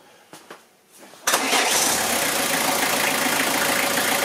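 A 1994 Renault Express 1.9 D diesel starts up: a few faint clicks, then the engine suddenly cranks and catches, settling straight into a loud, steady close-up clatter.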